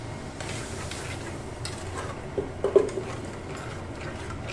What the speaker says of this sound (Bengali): এবার আমি এর মধ্যে দিয়ে দিচ্ছি ধনে জিরের গুঁড়ো, আর এর মধ্যে দিয়ে দেব বেটে রাখা মশলাটা, দিয়ে ভালো করে এটাকে আমি কষিয়ে নেব